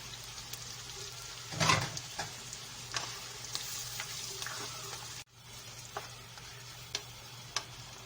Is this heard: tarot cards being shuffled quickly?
no